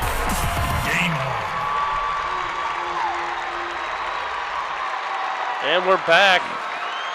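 Crowd gathered at the Wheelersburg Cinema watching a Wheelersburg vs Alexandria basketball game, cheering and applauding after a slam dunk; steady broad crowd roar runs throughout, with someone talking over it and a brief louder swell near the end.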